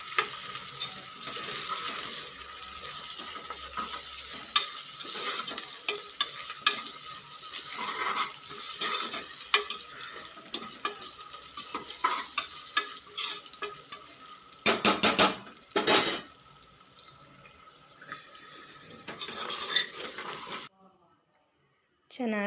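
Fresh mint leaves frying in hot oil and being stirred in a pan, with a continuous sizzle, scattered utensil clicks and scrapes, and a voice talking over much of it before a sudden drop to near silence.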